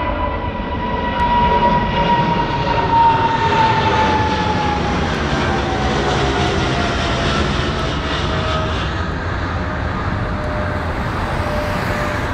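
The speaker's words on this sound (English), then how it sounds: "And all these aeroplanes keep taking off." Jet airliners taking off near Heathrow Airport roar continuously and loudly throughout, a broad rushing engine noise with a steady whine, close by and with no talk.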